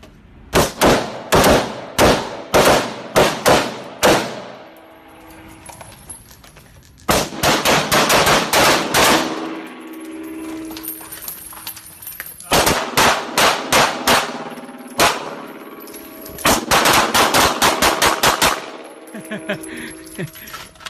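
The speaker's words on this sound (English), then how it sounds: "I had to shoot him on the run." Loud gunfire in rapid bursts of repeated shots, four strings of fast volleys separated by short pauses, with sharp metallic cracks and no talking.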